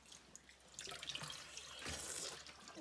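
Water runs from a tap into a sink, a faint, steady splashing stream that swells slightly toward the end, with no voices.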